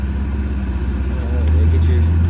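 Twin-turbo C8 Corvette engine idling after startup, a steady low rumble that swells slightly louder partway through, with faint talk over it.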